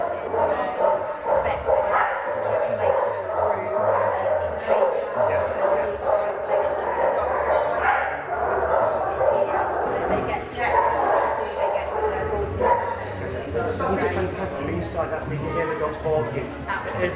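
Dogs bark and yip in the kennels of a newly opened rescue centre, a busy chorus of overlapping woofs and whimpers running steadily under constant talk from people nearby.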